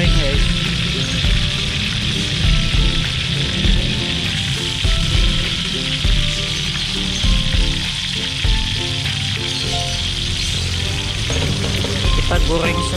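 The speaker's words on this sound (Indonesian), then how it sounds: "ini sedang kita goreng" Loud, close sizzling of tempeh frying in hot oil, crackling and popping continuously throughout.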